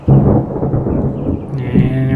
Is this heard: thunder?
yes